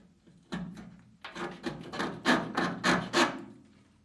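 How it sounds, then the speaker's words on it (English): A razor blade scrapes seam sealer off a metal door jamb in a series of short, rasping strokes, close up, each stroke a quick scratchy burst with brief pauses between. "I'm just going to take a razor blade and clean that off quickly"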